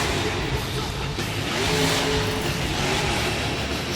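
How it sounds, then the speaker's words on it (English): The Max D monster truck roars at full throttle at an indoor arena show in Arnhem, its engine a loud, continuous, steady howl that fills the whole moment, with no voices over it. "Just flooring that truck right now for the bus stack."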